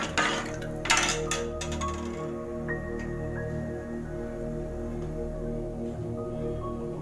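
Kara kadubu dough of rice flour, maida and oil being mixed in a metal vessel: a few sharp clinks and scrapes at the start, then faint intermittent metallic taps and soft stirring over a steady background hum.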